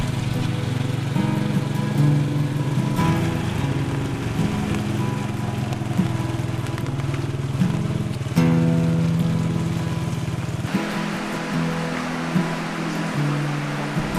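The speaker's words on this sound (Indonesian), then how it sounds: "Malam itu, hujan rintik membawa keluarga Ricky pulang ke rumah." Light drizzle falls at night, a steady broadband patter that runs through the whole stretch beneath a loud, low droning hum.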